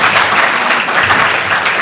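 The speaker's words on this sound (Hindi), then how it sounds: "बेटा तालियां बजाइए कलाकारों की" An audience applauds the performers after a theatre play at a drama festival in Barnala, dense continuous clapping that stays loud and even from start to finish.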